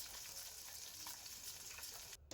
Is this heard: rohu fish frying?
yes